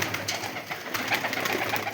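Pigeons coo softly in a low, continuous murmur with overlapping calls, a pair of fancy pigeons kept with their young, steady and fairly close with no talk.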